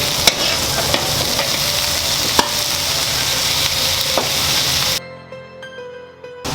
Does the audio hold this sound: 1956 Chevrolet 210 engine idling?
no